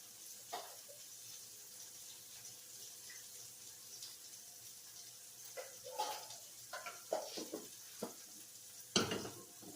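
Boiled red potatoes being drained, with a faint hiss of steam followed by uneven splashing bursts of water pouring out, then a sharper clatter near the end, quiet and without speech.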